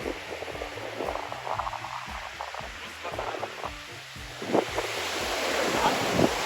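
Sea waves washing in at night, a steady broadband wash with wind buffeting the microphone, rising louder toward the end, with low rumbling gusts throughout.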